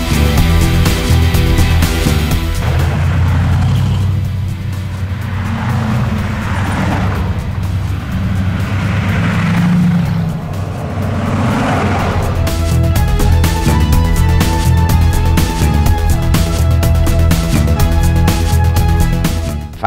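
A convoy of old V8 cars drives along roads near Duisburg, with loud, steady engine rumble throughout that swells and fades as vehicles accelerate and pass close by.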